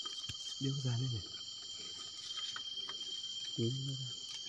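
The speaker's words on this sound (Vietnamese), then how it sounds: "Chỗ này là ông dế." A cricket chirps steadily and high in a rural highland spot while being caught, with faint voices talking twice in the foreground over the constant insect drone.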